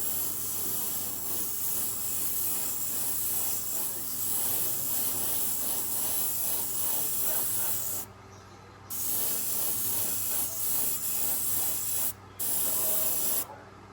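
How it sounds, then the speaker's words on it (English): An airbrush sprays thinned Tamiya rubber black paint in a steady, close hiss that breaks off twice for short pauses before resuming. "I've mixed up some Tamiya rubber black, and I'm gonna try and spray it."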